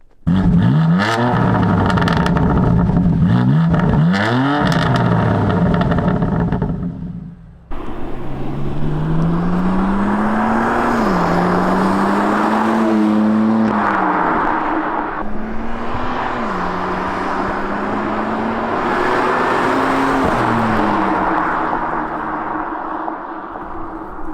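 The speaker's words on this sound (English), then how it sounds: "now we're gonna get a startup, maybe some revs, and then we'll get some driving" A BMW F80 M3 Competition engine starts with a loud crank and catch, idles briefly, then fires up again and settles into a steady idle punctuated by several sharp throttle blips and revs, close and alone.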